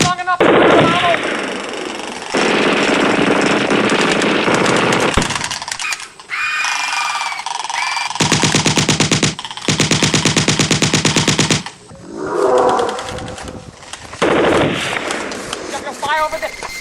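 Video game machine guns fire in long, loud sustained bursts, broken by short pauses and a few heavier blasts, with shouting voices mixed in.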